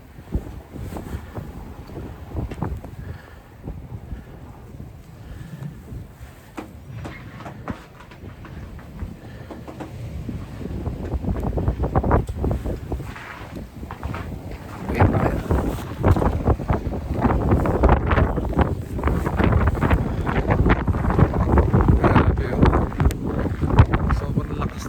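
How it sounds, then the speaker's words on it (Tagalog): Strong wind of a snowstorm in Canada, a steady roaring gust that swells louder through the second half, with possible voices in the background. "Sobrang lakas ng storm."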